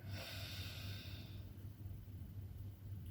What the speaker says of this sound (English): And then you hold the other nostril and breathe out from the one you were just holding.